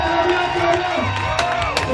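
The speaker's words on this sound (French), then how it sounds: "Acclamez très fort maintenant" Crowd cheering and whooping at a 20th wedding anniversary celebration, a dense, continuous roar of voices with shouts and whistles rising through it, close and loud for the whole stretch.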